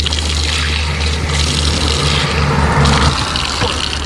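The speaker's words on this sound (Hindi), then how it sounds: "मुझे यहाँ पे ये एक नलका दिखा" An outdoor tap in rural Albania runs with a strong, close, steady gush of water splashing down, continuous for the whole stretch with slight shifts in the splash.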